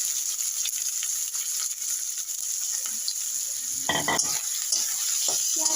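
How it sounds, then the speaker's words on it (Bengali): About 300 grams of onion going into hot oil for a Bengali silver fish curry, a steady hissing sizzle with a burst of louder crackling and stirring near the end, no talk. "পেঁয়াজটা আমি তেলটা গরম হয়ে গেছে, পেঁয়াজটা আমি তেলের মধ্যে দিয়ে দেবো।"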